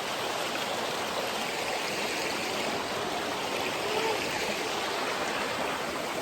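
A shallow river flows steadily while trekking toward a waterfall in El Nido, Palawan, a constant broadband rush of moving water close by and fairly loud, with no talking.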